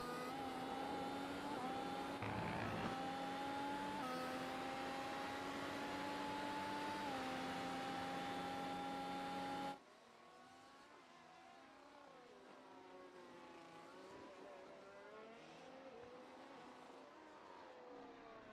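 Race cars lap the Hungarian GP circuit in a racing video game, their engines a constant high whine of rising and falling pitch. The sound is loud at first, then drops to a quieter, thinner drone partway through.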